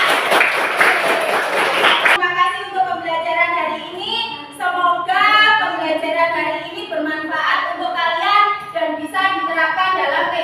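Fifth-grade pupils in a classroom clap together in a loud, brief burst, then the children's voices take over, chanting or singing in unison.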